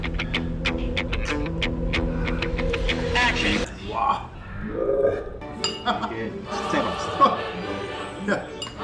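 Glasses clink in a toast over wild ginseng liquor at a restaurant, a bright ringing chink up front, with people talking and laughing through the rest and a few dish sounds.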